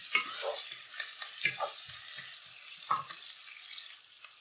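Onions sautéing in a pan for a country chicken masala made with sesame oil, soft sizzling under repeated scraping and stirring strokes of a spatula, fairly quiet and close.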